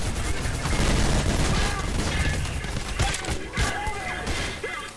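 Grenade blasts and dense gunfire from the first-person shooter game Trepang2, a loud continuous barrage of booms and rattling shots with sharp bursts near the middle and a voice talking underneath.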